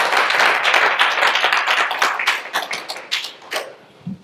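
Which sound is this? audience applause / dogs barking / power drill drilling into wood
audience applause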